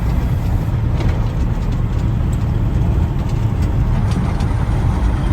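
A farm truck carrying seed wheat rolls in at a field during autumn sowing, its engine a steady low rumble that stays loud and close throughout with no break.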